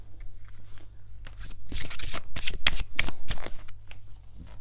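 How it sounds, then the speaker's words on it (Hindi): Tarot cards being shuffled and drawn, a quick run of crisp riffling, flicking and slapping sounds, close and fairly loud, with no talking over them. "I am gonna take some more card from here as well"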